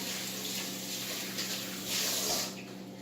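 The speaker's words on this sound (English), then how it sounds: "Wash my hands." Water runs from a sink tap in a home kitchen while hands are washed under it, a soft steady splashing that swells briefly near the end, with no talking.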